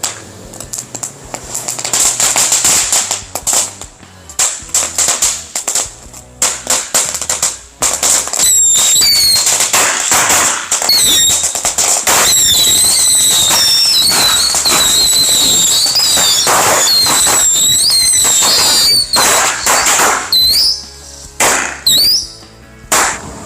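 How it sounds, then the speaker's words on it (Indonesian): Firecrackers blasting against a toy fighter plane outdoors: loud, continuous crackling volleys of rapid pops with whistling squeals, running almost without pause for about twenty seconds before trailing off into a few last bangs. "itu dia hasilnya ya dari mercon versus pesawat tempur"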